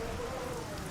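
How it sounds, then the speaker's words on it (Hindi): Steady rain patters on a surface in an animated Christmas special. The wash of falling drops stays even and moderately quiet throughout, with no voices over it. "ये सिर्फ बारिश है और कुछ भी नहीं"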